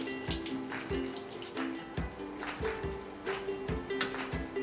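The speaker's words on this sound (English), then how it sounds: "Now I'm putting this breaded korokke into the oil gently. And I'm frying them 2 to 3 minutes on both sides." Breaded Japanese potato croquettes (korokke) fry in hot oil, a steady close hiss and bubbling with repeated soft pops and crackles throughout.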